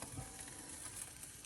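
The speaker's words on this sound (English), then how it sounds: "The water is almost boiling." A pot of water on a high stovetop burner comes up to a boil, a quiet, steady bubbling hiss with faint sizzling texture throughout and no voices.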